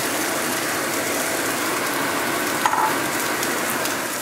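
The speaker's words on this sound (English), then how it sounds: "so I'm going to turn on the fan" Kitchen exhaust fan running over oil that has begun to smoke while onions and shallots cook, a steady broadband whoosh mixed with faint sizzling and a brief click midway, with no one speaking.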